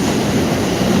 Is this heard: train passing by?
yes